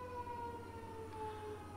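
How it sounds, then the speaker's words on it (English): A civil defense siren wails steadily in sustained tones, heard alone with no speech, held at an even level throughout. "And there it is. The nuclear siren again."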